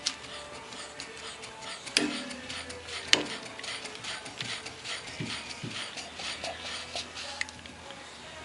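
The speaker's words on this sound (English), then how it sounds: "Testing our 64 Cadillac Fleetwood emergency brake pedal assembly." A 1964 Cadillac Fleetwood 60 Special emergency brake pedal assembly is tested on a bench: mechanical ratcheting clicks and pawl snaps come in irregular bursts, with a couple of sharp clacks standing out over faint background noise.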